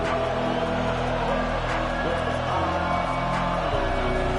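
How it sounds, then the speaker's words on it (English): A stadium crowd roars in the college football video game NCAA College Football 25, a steady continuous din with game music and tones layered over it. "Listen to this crowd just shaking the girders of this place trying to help their defense."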